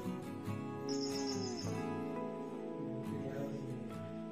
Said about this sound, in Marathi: फक्त आवाज होते पक्ष्यांचा.